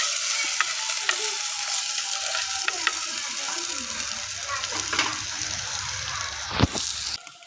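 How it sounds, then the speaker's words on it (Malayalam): Dried chillies, garlic, ginger, green chillies and curry leaves sautéed in a pan in a Kerala village kitchen, a steady close hiss of frying with scattered stirring clicks and a sharp clatter near the end. "വറ്റൽമുളക്, വെളുത്തുള്ളി, ഇഞ്ചി, പച്ചമുളക്, കരിവേപ്പിൻ്റെ ഇല ഇതൊക്കെ ഇട്ടിക്കാണ്ടൊന്ന് വഴറ്റിയെടുക്കും"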